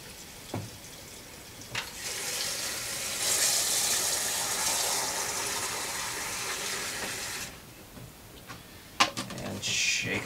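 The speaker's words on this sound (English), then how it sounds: "Some grease cutting liquid detergent in here, along with some more hot water." Hot water with grease-cutting liquid detergent being added to a container: a steady, fairly loud gushing pour that runs for about five seconds and then stops, with a few small knocks and clatters before and after.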